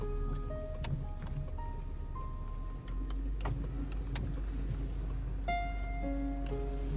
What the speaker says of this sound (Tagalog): Lakas na ulan ah